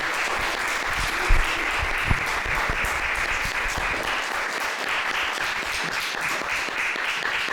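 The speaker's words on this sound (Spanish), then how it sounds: "un aplauso a Dios por la vida del pastor" A church congregation applauds for the pastor in a long, sustained round of clapping, dense and even throughout, with a couple of sharper knocks early on.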